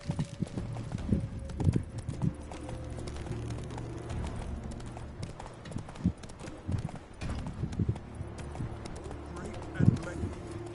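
Horse hooves clip-clopping at a steady gallop in The Witcher 3, a rhythmic drumming of hoofbeats that runs throughout with louder bursts, and a voice speaks over it.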